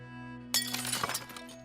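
Glass shattering as a sound effect in a horror radio story, a sudden bright crash with scattering, tinkling shards that fade over about a second, over a low sustained music bed.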